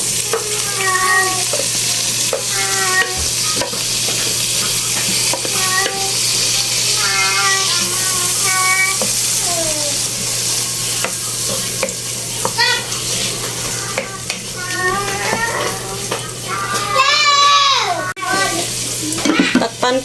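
Corn fries in a little oil, a steady sizzling hiss with stirring scrapes throughout, while a cat meows repeatedly close by over the cooking noise.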